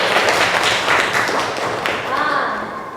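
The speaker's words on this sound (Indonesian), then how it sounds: "Tepuk tangan lagi buat" Steady clapping from a group of students fills a classroom, a continuous patter of many hands with a few voices mixed in.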